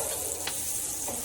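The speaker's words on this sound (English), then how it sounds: "I'm also going to use the same spoon and just give my noodles a quick stir" Macaroni noodles stirred with a spoon in a pot on the stovetop, a short burst of bubbling and sizzling with a faint scrape of the spoon.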